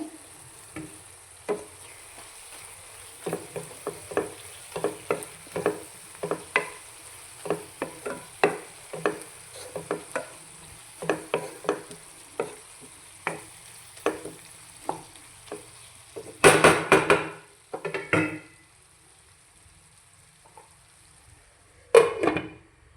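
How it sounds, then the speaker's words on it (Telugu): Tomatoes cooking in a pan for egg masala, a soft steady sizzle under repeated scraping strokes of a spoon stirring, with a few louder clanks of utensil on the pan. "ఇప్పుడు టమాటాలు వేస్తున్నానండి"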